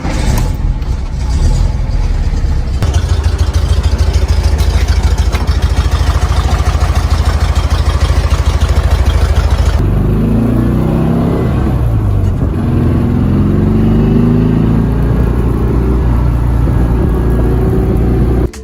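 The 1956 Porsche A1600 Super's flat-4 engine roars loud and continuous in Need for Speed Porsche Unleashed, running at high revs and then dropping to a lower, throbbing tone partway through.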